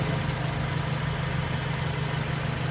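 A 2007 Suzuki SX4 X-Over with a 1.5-litre engine and automatic gearbox idles smoothly, a close, even and continuous engine hum with a steady low drone and no talking.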